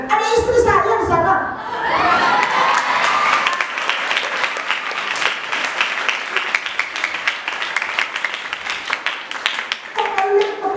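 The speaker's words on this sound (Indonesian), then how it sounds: "Kok kalian tepuk tangan sih?" An audience at an Indonesian Islamic boarding school sermon breaks into applause, with laughter and a voice at the start, then steady, dense clapping for several seconds before speech resumes at the end.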